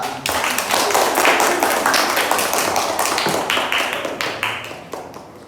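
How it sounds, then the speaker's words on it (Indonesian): A classroom of students claps in quick, rapid rhythm for a classmate named Naila, a dense burst of hand claps that holds steady and then thins toward the end, with voices mixed in. "Tepuk tangan Naila"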